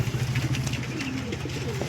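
Pigeons for sale at the Dankuni market coo in a low, steady run of soft pulses, close by, over a busy background murmur of the market crowd with a faint engine hum.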